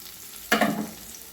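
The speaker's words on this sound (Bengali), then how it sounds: "পেঁয়াজটা ভেজে নিচ্ছি।" Chopped onions dropped into hot mustard oil in a wok, bursting into a sudden loud sizzle that flares up and then settles into a softer fizzing.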